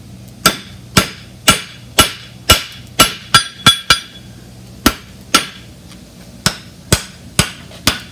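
Sharp metallic hammer blows ring out as a whip across bar horseshoe is beaten back into itself. Roughly sixteen strikes come in an uneven rhythm, each loud and close with a short ringing decay and a brief pause midway.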